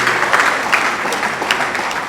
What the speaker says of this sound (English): Can we give him another applause for that?